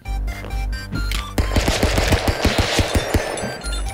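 Rapid bursts of gunfire from the video game Stick Fight, a quick string of sharp shots firing in steady rhythm over game music, loud and close with no voices.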